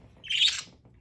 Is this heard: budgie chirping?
yes